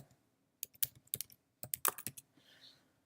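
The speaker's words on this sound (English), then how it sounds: "I'm going to type my predefined template by typing the abbreviation words or letterhead." Keystrokes on a computer keyboard while an abbreviation is typed into a letterhead template, coming in two quick bursts of close, crisp clicks separated by a short pause.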